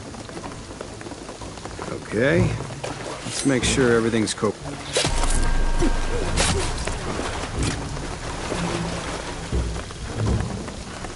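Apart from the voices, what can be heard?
rain and thunder in video game Shadow of the Tomb Raider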